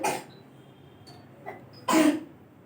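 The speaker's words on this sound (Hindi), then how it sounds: "माफ कीजिएगा मेरी बेटी को खांसी हो जाता है" A few short, sharp coughs from a young girl, one faint and one louder burst near the end, in an otherwise quiet room.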